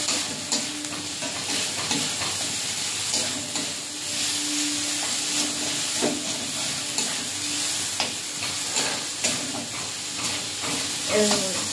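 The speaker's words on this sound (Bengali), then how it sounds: "বেশি না, কাঁচা লঙ্কা দিয়েছি, অল্প একটু লঙ্কার গুঁড়ো দিয়ে মশলাটা ভালো করে কষে নেব" Spice paste with green chili and chili powder sautéing in a pan for a ridge gourd and prawn curry, giving a steady close sizzle with scraping stir strokes throughout; a faint voice surfaces briefly near the end.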